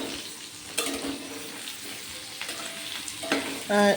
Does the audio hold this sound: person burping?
no